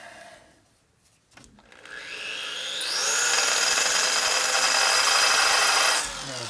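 A power drill with a worn-out bit whines up to speed and grinds steadily into hard material during a motorcycle rebuild, a loud sustained buzzing tone that rises in pitch, then cuts off abruptly.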